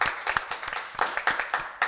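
Comedy show audience claps for clowns, a brisk burst of many hands with uneven sharp peaks that rise and dip over a couple of seconds, fairly close and unaccompanied by talk.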